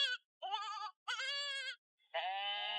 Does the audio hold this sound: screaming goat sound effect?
yes